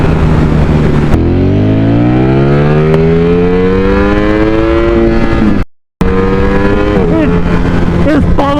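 A Ducati Streetfighter V4 motorcycle engine revs up in a long rising pull, then cuts briefly and revs again with quicker blips, loud and close with rushing wind noise.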